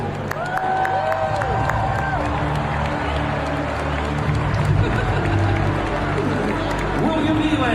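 A large ice hockey arena crowd at the Winter Games roars with a sustained, dense wall of jeering and booing aimed at a Toronto Maple Leafs player, loud and continuous throughout.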